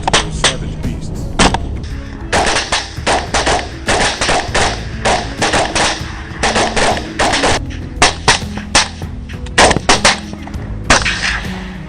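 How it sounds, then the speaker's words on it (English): Rifle gunfire on a night hunt for wild boar in Florida: a rapid series of loud, sharp cracks and booms, some in quick bursts, with short gaps between volleys. "fired round after round toward the herd"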